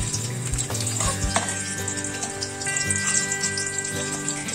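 Round eggplant slices frying in oil in a pan on a slow flame, a steady close crackling sizzle that fills the whole stretch, with no talking.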